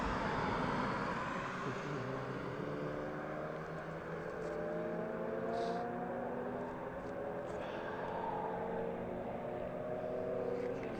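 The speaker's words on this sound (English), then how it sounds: "Even sounds like some cars over there" Cars drive in the distance near East Midlands Airport, a low, steady rumble of passing vehicles that rises and falls faintly for several seconds with no voices.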